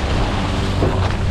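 Strong wind and rough sea heard from aboard a small fishing boat, a loud continuous roar of gusts and waves buffeting the microphone, with no voices.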